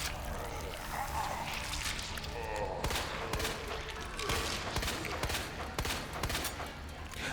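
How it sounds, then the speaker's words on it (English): Rapid gunfire from a Resident Evil 2 weapon emptying a full magazine, a dense continuous burst of shots over game sounds, with some voice underneath. "Mag dump."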